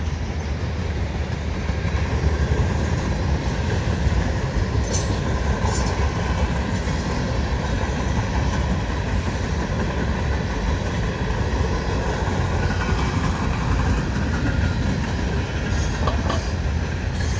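A westbound CN freight train rumbles past steadily for the whole stretch near Dorval West switch in Montreal, with rhythmic clacking wheels and occasional faint metallic squeals, loud and close.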